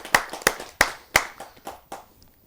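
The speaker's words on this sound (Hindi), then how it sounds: "आइए जोरदार तालियों से उनका स्वागत करते हैं।" Sharp, separate hand claps ring out at a poetry gathering to welcome a poet, about six or seven strikes spaced a bit unevenly, the later ones fading softer, with no voices.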